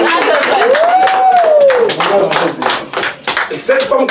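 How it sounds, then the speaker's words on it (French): Guests at a wedding anniversary celebration clap loudly and continuously, dense applause filling the room while a voice carries a sustained tone over it. "On applaudit."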